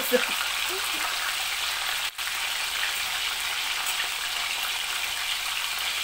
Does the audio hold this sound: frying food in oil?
yes